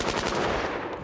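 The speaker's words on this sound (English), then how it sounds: "the legendary and infamous AK-47" An AK-47 rifle fires a fast burst at a shooting range, each shot a sharp close crack in a rapid even rhythm lasting about a second, loud and alone.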